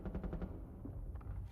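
Video game gunfire in Rainbow Six Siege: rapid automatic bursts crackle through the first half, then thin into scattered shots, all fairly faint and with no talking.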